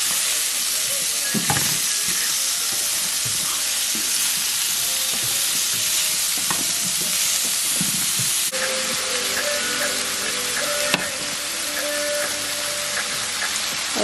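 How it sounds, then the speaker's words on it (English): Vegetables sautéing in a pan, a steady close-up sizzle and crackle of frying with occasional stirring scrapes and utensil clinks throughout, no voices. "I'm just gonna let it saute a little bit and cook down."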